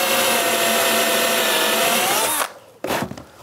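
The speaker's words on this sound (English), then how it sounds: "I'm going to use a Forstner bit here to give me a recess to put a plug in" A power drill with a Forstner bit bores a plug recess into wood, a loud steady whirring cut for over two seconds, then stopping, followed by a brief second burst.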